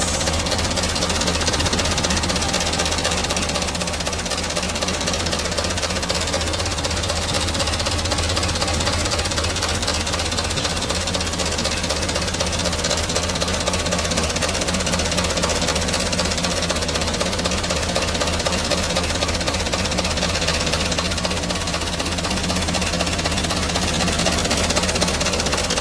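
Mitsubishi Canter HD125 truck from 2013, sold as-is, with its diesel engine running at a steady idle. The rough knocking clatter stays constant and close the whole time, with no talking.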